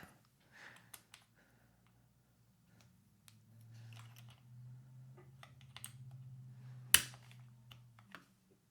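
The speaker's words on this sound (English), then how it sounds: "let's just go ahead and take out one of the keycaps" A keycap is pulled off a MIKIBY Mad Nano 68 mechanical keyboard, giving one sharp, close snap after a few faint clicks, over a low steady hum in a quiet room.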